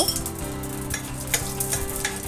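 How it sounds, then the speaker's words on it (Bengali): Cumin and radhuni seeds crackle and sizzle in hot oil with bay leaves, stirred in the pan. A steady, close, fairly loud frying hiss runs throughout, with light stirring scrapes and no voices. "জিরার ফোড়ন, আর সাথে দিচ্ছি রাঁধুনির ফোড়ন। কিছুক্ষণ নেড়ে চেড়ে দিয়ে দেব"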